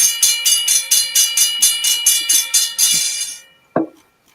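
A Safe Trend hybrid alarm bell rings in rapid regular strikes for about three and a half seconds, loud and close, then stops, followed by a single short thump.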